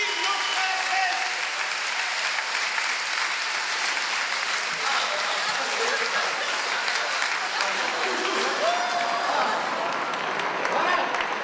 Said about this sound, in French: Alors applaudissez la Belgique!